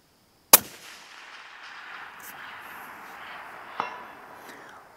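A long-range rifle shot fired at a high angle: one sharp, loud report followed by a lingering rumbling echo, then a faint distant impact crack about three seconds later.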